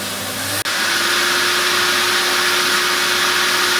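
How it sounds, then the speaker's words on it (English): A Henry vacuum cleaner switches into boost mode aboard a boat, with a brief click and dip followed by a loud, steady, close motor roar and whine. "There's a boost function on the Henry vacuum cleaner, and I'm going to put that on now."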